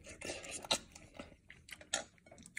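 Teeth biting into a cut ripe mango, soft wet crunchy bites and chewing in several irregular bursts, close and fairly quiet with some light clatter between.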